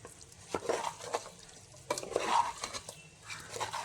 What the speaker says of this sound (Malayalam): ഇത് നല്ലതുപോലെ ഇളക്കി യോജിപ്പിച്ച് കൊടുക്കാം.